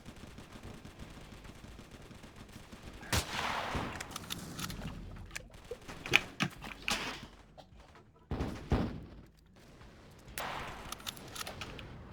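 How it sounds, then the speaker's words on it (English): In the toy war game Attack On Toys, sniper rifle shots crack out in several sharp bursts spaced irregularly, over game background noise and without speech. "I'm gonna use the sniper"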